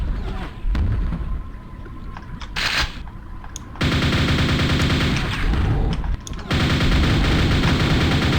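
Sustained gunfire in a video game as automatic weapons blast at oncoming Shamblers, a dense, loud, continuous rattle of rapid shots with brief lulls between bursts and no talking.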